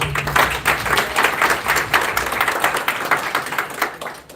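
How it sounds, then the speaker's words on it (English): An audience at a book launch event applauds, a steady dense patter of many hands clapping for several seconds, fairly close and loud, with no talking over it. "Round of applause."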